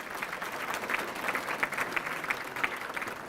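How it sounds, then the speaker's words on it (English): Steady, even applause from the crowd at a high school athletic hall of fame induction ceremony, a continuous wash of many hands at moderate distance. "Let's have a round of applause for John."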